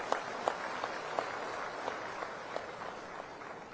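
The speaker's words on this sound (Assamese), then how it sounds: "আপোনালোকে সকলোৱে হাত চাপৰি বজাই তেখেতক কৃতজ্ঞতা প্ৰদান কৰক" A large audience at a public address gives sustained applause, a soft, somewhat distant wash of clapping with a few sharper individual claps standing out at irregular intervals.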